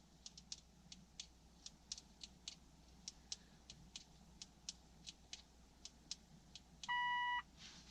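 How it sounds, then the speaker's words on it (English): A Mitsubishi Outlander PHEV in accessory mode in deep winter cold gives one steady electronic beep near the end, after a run of soft, evenly spaced clicks; no one speaks. "Hey, we got a beep."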